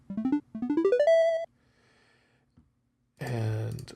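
A Pico-8 chiptune stinger fanfare: two rising square-wave phrases, the second transposed up two semitones and ending on a held note, then silence before a buzzy chord burst near the end.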